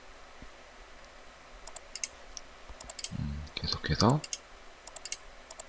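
A few soft, sharp mouse clicks while working in SketchUp, spaced irregularly beneath someone speaking Korean.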